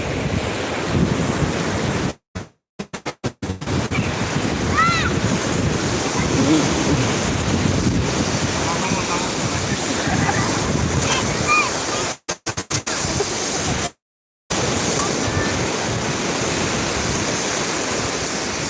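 Strong wind buffets the microphone over a constant roar of ocean surf on a Thai coast ahead of an approaching storm, with a few brief cutouts.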